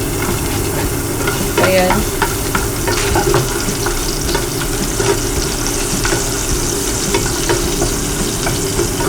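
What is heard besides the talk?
garlic sautéing in cooking oil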